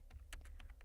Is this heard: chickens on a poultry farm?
no